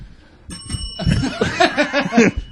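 A bright bell rings once from the next room, then people laugh and chuckle nearby as the tone lingers faintly beneath them.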